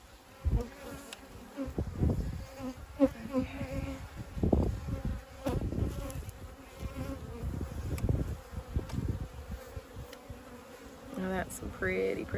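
Dense swarm of bees buzzing steadily at close range, with some handling noises and occasional bumps mixed in.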